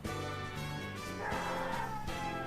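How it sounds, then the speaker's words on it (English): A loud dog barks several times nearby, its yips and woofs mixed under a dense, tonal background. "That dog is so loud."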